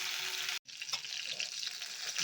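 Fish frying in a covered pan over a medium flame, a soft, steady sizzling hiss broken by one brief silence.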